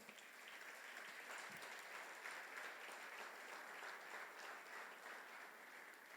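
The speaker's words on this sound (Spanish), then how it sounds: "Dale un aplauso fuerte al Señor." A church congregation claps in steady, continuous applause that stays faint and even from start to finish, with no voices standing out.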